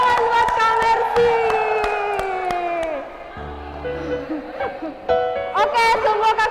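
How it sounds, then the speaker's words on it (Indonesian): Audience applause for a singer comes as scattered claps and faint cheering beneath loud speech and a short musical passage, never clearly standing alone. "Tepuk tangan buat Kak Mercy."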